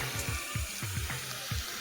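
A borewell pump runs on a farm as water gushes from a pipe, a steady rushing hiss with repeated low gurgling pulses.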